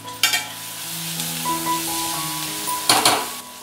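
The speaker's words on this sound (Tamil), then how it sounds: "இந்த வெங்காயம் வதங்கிறதுக்கு கொஞ்சமாக உப்பு போடலாம், சீக்கிரம் வதங்கும்." Onions sautéing in a pan with a pinch of salt for a Tamil kuzhambu, a steady soft sizzle under bursts of stirring scrapes near the start and again near the end, with faint tonal hums in the background.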